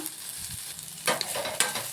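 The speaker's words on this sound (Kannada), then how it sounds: "ಇದೊಂದು ಸ್ವಲ್ಪ ಚೆನ್ನಾಗಿ ಫ್ರೈ ಮಾಡ್ಕೊಂಬಿಡೋಣ" Masala spices fried in oil in a pan for chicken donne biryani, soft sizzling with a couple of sharper scraping stirs, close up.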